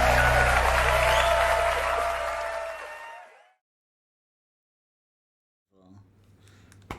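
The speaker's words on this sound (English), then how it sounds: "please give yourselves a huge round of applause" An audience claps in a dense burst of applause that fades out over about three seconds, followed by silence and then faint scattered noises.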